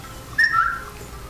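A wolf whistle aimed at women in an Axe perfume advertisement: a single short rising-then-falling whistle, clear and fairly close, over a quiet background.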